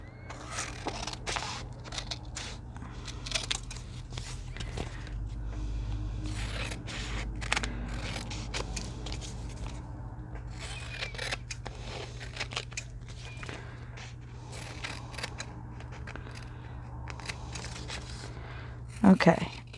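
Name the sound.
scissors cutting fabric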